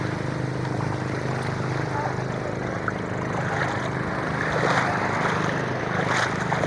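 A fishing boat returning from the open sea to a beach in Camarines Norte, its steady motor drone rolling on under the wash of waves and wind, growing slightly louder toward the end.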